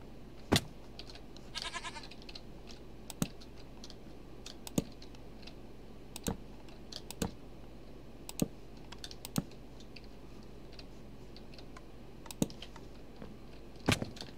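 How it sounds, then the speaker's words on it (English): Sharp, isolated clicks from Minecraft pressure plates being stepped on, about a dozen spread irregularly across the stretch, fairly distinct over a quiet, steady background hum with no talking. "All I can hear is them clicking the pressure plates."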